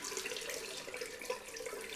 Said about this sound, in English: let's get some hot water into the